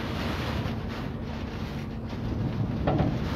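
Roaring storm wind in Istanbul, strong enough to topple heavy vehicles, blasts steadily and loudly with deep low rumble throughout, swelling slightly toward the end, with no voices.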